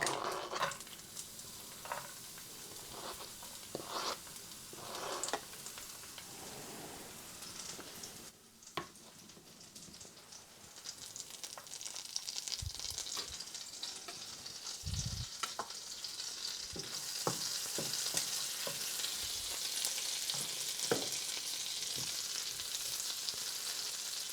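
Garlic fries in a hot pan over slightly lowered heat, giving a steady sizzle that builds and grows denser toward the end, broken by occasional stirring clicks and scrapes, with no talking.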